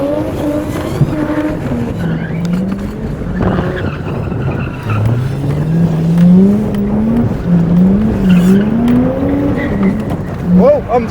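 A video game car spins a donut, its tyres squealing in long wavering whines over a revving engine, loud and close, while a player talks throughout.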